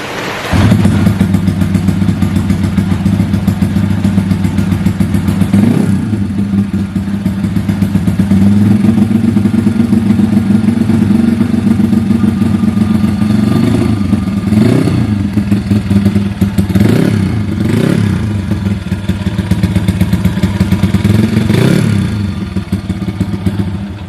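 A custom trail motorcycle engine idles loudly and close by with a steady rough putter, punctuated by several short throttle blips that briefly raise the revs.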